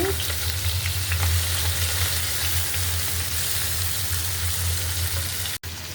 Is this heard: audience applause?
no